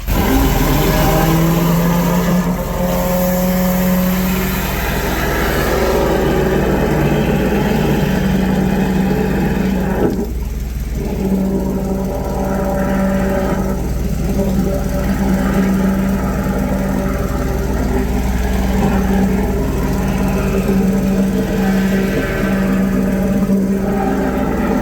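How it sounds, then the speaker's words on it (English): A drain jetter runs with a turbo nozzle while clearing a blocked drain, giving a loud, steady engine drone that holds unbroken for about twenty-five seconds, with no voices over it. "let's fire up the turbo nozzle"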